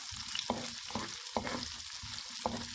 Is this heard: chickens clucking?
no